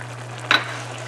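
A single short stir as dried peas and cilantro go into a pot of chicken garam masala with garbanzo beans, a soft scraping swish over a steady low hum.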